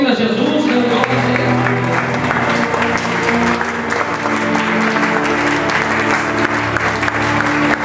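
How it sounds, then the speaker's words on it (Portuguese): A church congregation applauds during a worship service, a dense continuous clapping with music and a voice sounding along underneath. "Você pode aplaudir,"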